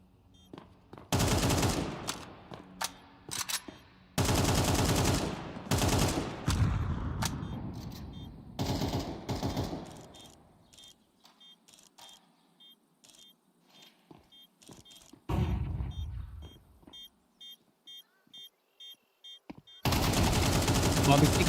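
Crossfire in a competitive PUBG-style esports match, Zero Tenacity versus Passion UA: repeated bursts of automatic gunfire in loud clusters separated by quieter gaps with small mechanical clicks, the last burst returning loudly at the end.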